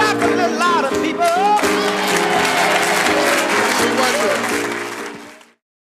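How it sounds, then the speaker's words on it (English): Applause and crowd noise swell over loud music with singing, then cut off abruptly near the end. "Clap a little louder, people."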